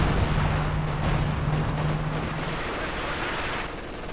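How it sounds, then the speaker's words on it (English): Machine gun fire in the strategy game Company of Heroes 2, a steady dense rattle of rapid shots blending into battlefield rumble and din throughout. "No, machine gun."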